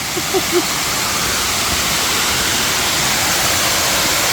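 An Alabama waterfall fills the air with a steady, loud, broadband rush of falling water, continuous and unchanging, with a faint brief vocal sound at the very start.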